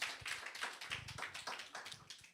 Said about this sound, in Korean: 격려의 박수 올리도록 하겠습니다.